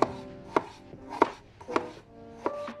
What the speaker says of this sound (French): découpe de tomates terminée